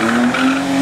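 A drift car at a Nafplio drift event slides through a tight section, its tires letting out a loud, sustained squeal under engine noise, close and continuous for under a second.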